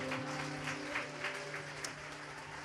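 A church audience applauds through a Haitian sermon, a steady, dense wash of clapping with sustained tonal organ or keyboard notes underneath and no clear speech, holding at an even moderate level throughout.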